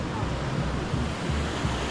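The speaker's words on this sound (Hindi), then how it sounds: "ये रहा वाटरफॉल और इधर से पानी इधर क्रॉस होता है।" A large waterfall, Pawai Falls between two hills in Balrampur, Chhattisgarh, roars loud and close as a dense, unbroken rush of water with no pauses.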